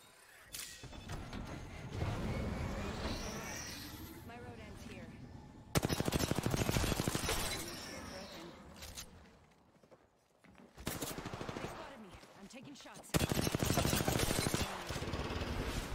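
Bursts of rapid automatic gunfire in the battle royale game Apex Legends, loud and close, coming in several long volleys separated by brief lulls, with a voice briefly heard between them.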